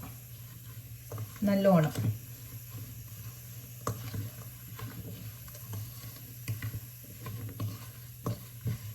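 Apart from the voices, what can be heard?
mixing banana flower pickle in a pan with a spatula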